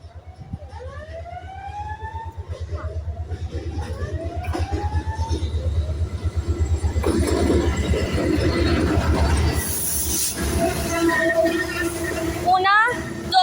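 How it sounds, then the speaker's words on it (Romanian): A passenger train from Constanța rolls into Neptun station: low rumbling wheels with rhythmic clacking over rail joints that builds in loudness, plus sweeping horn or siren tones and a sharp squeal near the end. "Trenul ăsta care vine de la Constanța pleacă la Mangalia."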